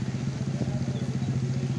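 Motorcycle engine idling steadily with a low, even putter at night beside a small roadside tea shop as the rider brings the bike to a stop, close and continuous with no voices.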